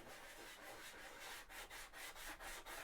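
A nail file rubbed by hand across cosplay shoe armour, a steady, close, continuous rasping with rhythmic back-and-forth strokes about every quarter second, heard alone.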